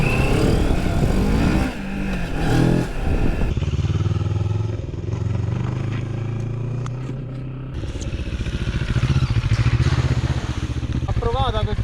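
A Moto Morini X-Cape 650 being ridden, its engine droning steadily with shifts in pitch and load as it moves, loud and close amid wind and rumble.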